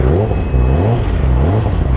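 A Ducati motorcycle engine warming up revs and idles with a deep, rumbling mechanical roar, loud and close, rising and falling steadily throughout with a faint clatter underneath.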